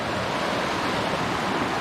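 Albertine Creek rushes in a steady, dense wash of flowing water, close and continuous with no pause or voice over it.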